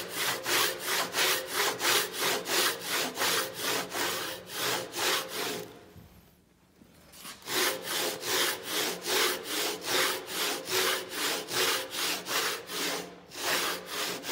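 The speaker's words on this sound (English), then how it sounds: "because I have my handsaw positioned just to this side of the score line, we get a nice clean cut on this side that's staying" A handsaw rip- and cross-cutting wood just beside a score line for a tenon, a steady rhythmic rasp of close push-pull strokes that pauses briefly midway and then resumes at the same even pace, with no talking.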